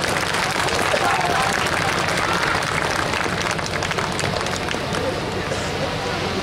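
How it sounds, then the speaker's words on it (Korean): Audience applause at a Chunhyang pageant, a national beauty contest, with broad steady clapping and crowd babble filling the whole stretch at an even, loud level. "정말 고생한 우리 춘향이들에게 큰 박수 한번 부탁드리겠습니다"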